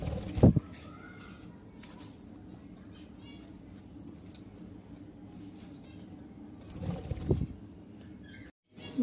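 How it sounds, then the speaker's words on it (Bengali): A pet cockatiel kept alongside lovebirds gives faint chirps and calls, with people talking over them and a couple of louder bumps. "এটা আমার ককটেল পাখি"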